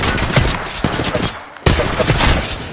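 Bursts of rapid automatic gunfire from an Apex Legends firefight ring out loud and close in quick strings, broken by a short pause before a fresh volley.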